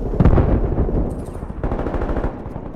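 Call of Duty: Black Ops Cold War multiplayer gunfire, loud close automatic bursts in rapid succession with a short lull between them, no voices.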